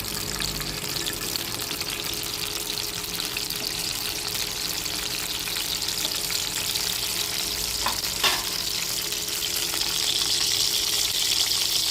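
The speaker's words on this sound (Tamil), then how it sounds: "ஆயில் கொதி வந்ததும் நம்ம வந்து கடுகு உளுந்தம்பருப்பு அதை போட்டுக்கலாம்" Mustard seeds and urad dal fry in hot oil for a ladies finger stir-fry, giving a steady, close sizzle with a fine crackle that holds evenly throughout, with no voices.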